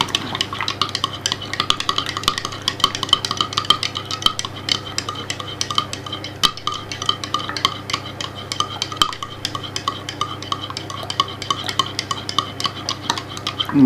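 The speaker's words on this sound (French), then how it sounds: "Je continue à mélanger." A spoon stirs hot chocolate mixed from a Harry Potter-themed drink powder, making steady, rapid clinks and scrapes against the cup that continue without pause, with no talking.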